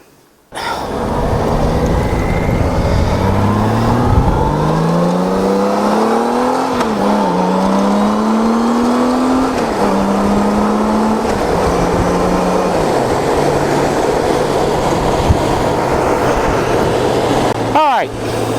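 A motorcycle engine runs steadily up close, its pitch rising and falling as it shifts through gears, with wind rumble throughout.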